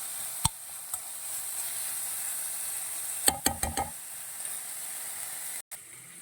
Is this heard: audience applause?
no